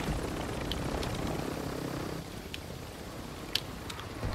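Helicopter rotor noise in Call of Duty: Modern Warfare II, a steady broadband whir filling the first half and then thinning out, with a few sharp clicks and a short bang near the end and no talk.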